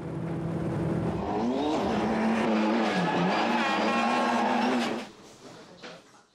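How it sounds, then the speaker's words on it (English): Mitsubishi Lancer rally car engine revving hard, a loud buzzing note that rises and falls in pitch for several seconds before the car passes and fades away. "Undoubtedly one of the world's favourite rally cars, the Mitsubishi Lancer has been raced by homegrown hero privateers and more professional rally teams for years."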